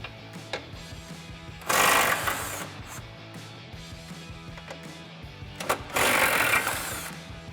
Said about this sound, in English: So we'll grab our 15 mil socket on our impact,